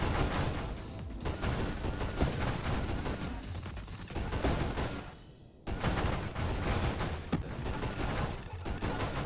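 Railgun shots in Nova Drift, sounding as a dense, constant stream of sharp blasts and impacts, loud throughout, with a brief drop just before a sudden resumption of firing.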